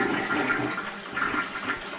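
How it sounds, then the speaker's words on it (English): A John D Crapper toilet flushes a double cheeseburger with toilet paper, a loud, close rushing swirl of water that surges and churns for about two seconds with no talk. "I'm going to flush her and let's see how she goes."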